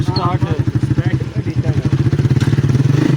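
Two Honda 125 motorcycles rev against each other in a tug of war, one of them self-start, producing a steady, loud, throbbing engine drone with rapid rhythmic pulses while people talk over it.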